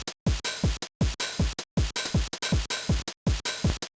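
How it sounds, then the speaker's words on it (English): TR-909 bass drum samples played in LSDj on a Game Boy thump in a steady fast pattern, each punchy low kick decaying quickly, loud and dry with brief silent gaps between groups. "you could have a TR-909 and then the bass drum would sound like this"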